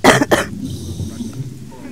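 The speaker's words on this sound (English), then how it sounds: "Didn't mean to cough right into the mic." Two sharp, close coughs burst straight into a headset microphone during online game voice chat, followed by quiet background murmur.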